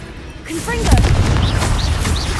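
An explosive Confringo spell blast in Hogwarts Legacy: a deep, booming burst lands just after a voice calls out, followed by a rumbling, crackling tail with scattered sharp pops.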